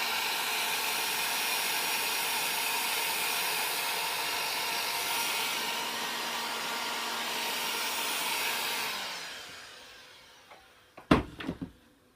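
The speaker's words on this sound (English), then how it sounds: "We then take the heat gun here. This one's just got 2 heat settings." Heat gun blowing hot air onto a heat shrink label on signal wiring, a steady whooshing blow for about nine seconds that winds down, followed by a few close clicks and handling knocks.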